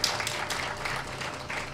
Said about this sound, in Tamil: கைத்தட்டு பத்தாது இந்த நிர்வாகத்துக்கு